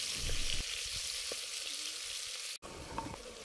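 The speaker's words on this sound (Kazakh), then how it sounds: "Етті осылай жақсылап қуырып аламыз." Lamb meat frying hard in a cauldron for Kazakh sirne, with a steady, dense sizzle and crackle throughout, close and loud, broken by one brief dropout near the end before the frying resumes.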